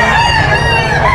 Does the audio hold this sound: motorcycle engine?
no